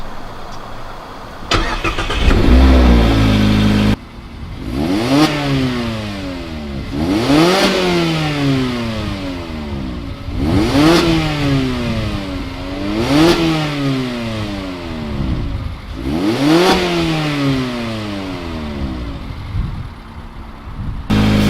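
A Mazda MX-5 RF cranks and fires up, then the engine is blipped again and again, rising and falling about six times in a regular rhythm, loud and close with no talking.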